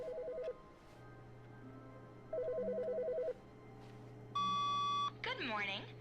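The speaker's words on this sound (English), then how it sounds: "Phone wasn't ringing before." A telephone rings in a video game, with repeated electronic beeping bursts followed by a brighter, steady ringtone tone and then a warbling trill, moderately loud over a low background hum.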